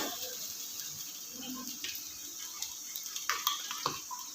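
Black masala spices fry in hot oil in a pan for a chicken curry, giving a soft, steady sizzling hiss dotted with small crackles and a few brief scrapes or clinks of a stirring utensil near the end.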